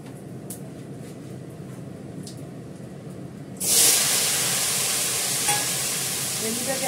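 Cumin seeds and asafoetida hit hot oil in a pan for tempering, a sudden loud sizzle that bursts in midway and keeps hissing steadily, after a quieter stretch of low background noise and faint clicks.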